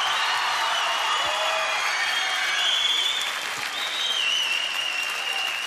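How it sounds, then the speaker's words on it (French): Steady applause from a TV studio audience on a French variety show greeting a singer's entrance, dense and sustained throughout, with a few faint voices and whistles under it. "applaudissements et accueil chaleureux"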